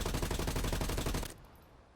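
Rapid automatic fire from an XM4 rifle in the Warzone video game, a loud, dense burst of evenly spaced shots lasting over a second before cutting off into a quiet tail.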